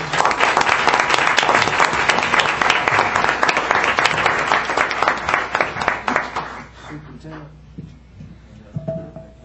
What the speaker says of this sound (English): Can we give Mr. Sanders one more round of applause?